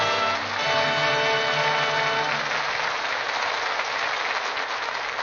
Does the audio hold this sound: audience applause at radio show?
yes